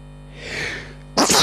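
A single close sneeze bursts out abruptly after a brief breathy inhale, loud against a quiet room.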